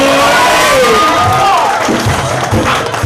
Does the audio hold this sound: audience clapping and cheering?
yes